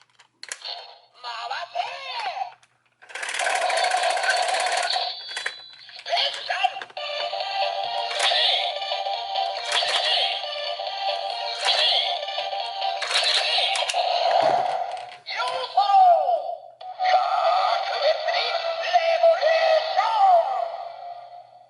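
A DX Enya Rideon Geartlinger toy plays its special electronic sound effect, with bright synthetic tones, clicks and bursts in several bursts separated by brief pauses, close and fairly clear, with no voice over it.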